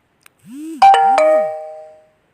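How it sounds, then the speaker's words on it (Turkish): Incoming message notification chime on a phone: a short two-tone ding-dong with gliding tones, close and clear against silence. "Şimdi telefona mesaj geldi."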